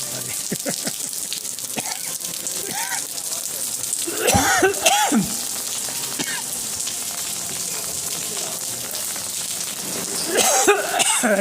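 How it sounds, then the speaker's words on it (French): A person coughs and clears their throat outdoors in Alicante during heavy rain, a few brief rough bursts separated by stretches of steady rain hiss, with a louder cough cluster near the middle and another toward the end. "Ben, je tousse."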